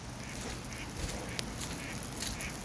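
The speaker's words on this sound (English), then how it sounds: "Still ducks chilling all over the place." Ducks by a lake in a grassy park near a dock, giving a few soft, scattered quacks at a distance over a steady outdoor background hum.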